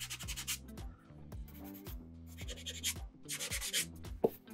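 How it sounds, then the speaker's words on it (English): Sponge gently rubbing over a painted Mega-Man helmet, soft scratchy strokes repeating in a steady back-and-forth rhythm, close and quiet with no talking. "Sponge them, see if I can't just like very gently just rub them off a little bit."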